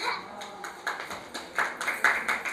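At an Indian folk arts festival, an audience claps for the chief guest. The claps come as quiet, distinct, roughly rhythmic strikes rather than a thick roar and sound fairly distant and sparse.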